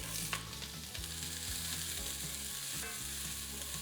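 Onions hit a hot, smoking pan and sizzle loudly and steadily, with a bright hiss and a brief clatter of stirring near the start, close and alone.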